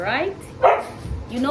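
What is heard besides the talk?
pet dog barking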